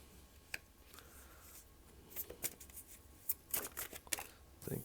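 Tarot cards being shuffled close by, a faint papery riffle with soft flicks and snapping bursts that grow busier toward the end, in a quiet room.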